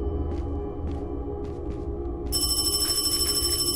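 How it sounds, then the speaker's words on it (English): A telephone rings inside the horror video game Paranormal HK, with faint electronic chirps at first and then a loud, steady trilling bell that continues to the end with no talking. "Where is that ringing coming from?"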